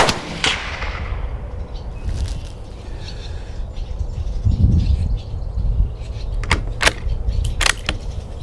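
Mossberg 640K rifle fired at a range aimed at a 100-yard target, a sharp loud crack at the start followed by several more distinct sharp reports later, over outdoor background noise.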